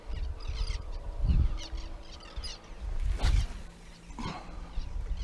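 Wild bird calling near a fishing boat out on Whangaroa, a few faint honking calls spread over several seconds against low engine and water noise.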